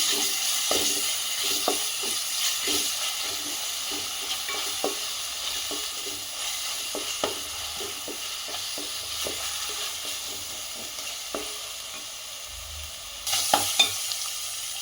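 Onions frying in a pan with a steady sizzle and intermittent clicks and scrapes of stirring, continuous and close, no voices.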